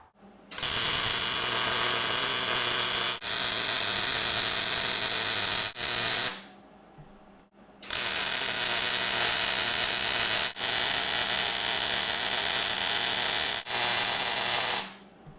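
A Hobart Handler 140 MIG welder lays beads in a bevel, giving two long bursts of loud, steady crackling buzz broken by a short pause, close up and with no talking over it.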